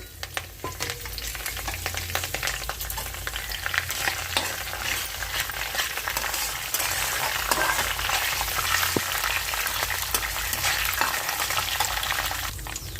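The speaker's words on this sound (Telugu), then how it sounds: "ఇప్పుడు పోపులు వేసేసుకుందామండి మినపప్పు శనగపప్పు ఆవాలు జీలకర్ర కరివేపాకు" Urad dal, chana dal, mustard seeds, cumin and curry leaves frying in hot oil for a South Indian tempering, with steady close sizzling and crackling plus occasional stirring scrapes throughout, no talking.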